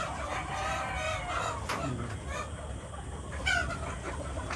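Desi chickens and big roosters on a farm fill the yard with steady clucking and fowl calls, with a few louder crow-like calls rising above a busy, constant background.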